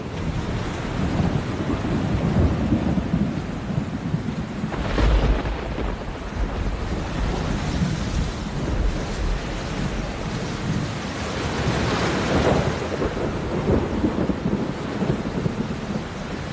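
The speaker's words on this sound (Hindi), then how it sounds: "तूफान से पहले बारिश की दस्तक।" Heavy rain pours down ahead of Cyclone Nivar in southern India, a continuous loud hiss of rainfall with low rumbling bursts of thunder or gusts rising and falling over the downpour.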